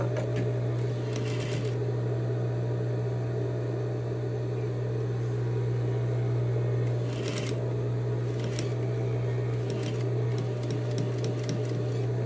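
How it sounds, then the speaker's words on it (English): A domestic sewing machine runs slowly, top stitching and back stitching close along a folded fabric edge: a steady, close motor hum with brief rattling bursts of needle action. "I'm sewing really slowly to make sure that I am catching everything and that it looks consistently folded"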